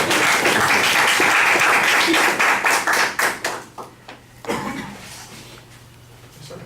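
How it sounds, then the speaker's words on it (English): Audience applause, dense at first, then thinning into a few distinct, spaced-out claps before fading into quiet room tone. "Yes, a little applause."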